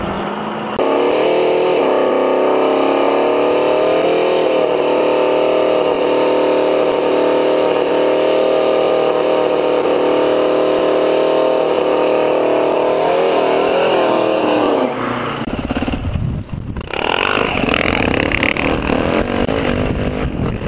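A dirt bike engine blares through its exhaust pipe, loud and close, holding a sustained revving drone for most of the stretch before the pitch shifts and a rougher burst of engine noise follows.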